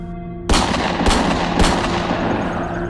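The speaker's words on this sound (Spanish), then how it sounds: "Disparé varias veces, no recuerdo cuántas" Three sharp gunshots ring out as sound effects in a Spanish-language horror audio drama, each a loud crack with a lingering echo, spaced roughly half a second apart over a steady dark ambient drone.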